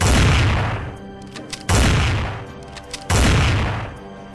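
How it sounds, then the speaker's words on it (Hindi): Hunters fire gunshots into the air one after another: three loud, close booming blasts spaced about a second and a half apart, each followed by a long decaying rumble. "शिकारियों ने एक के बाद एक हवा में गोली चलानी शुरू कर दी।"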